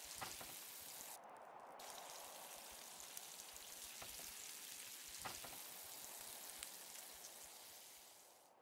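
Food cooks over a campfire in the survival video game Arid, a steady close sizzle and crackle with a few sharper pops over several seconds.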